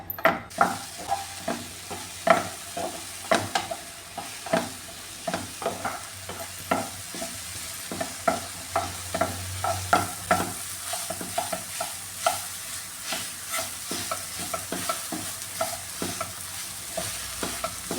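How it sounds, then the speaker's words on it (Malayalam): Ripe plantain pieces fry in ghee in a pan while a spatula stirs them, giving steady sizzling and frequent close scraping and tapping strokes against the metal in an irregular rhythm, with no talk. "പഴം നന്നായിട്ട് ഇതിലിട്ടൊന്ന് വരട്ടിയെടുക്കാമേ"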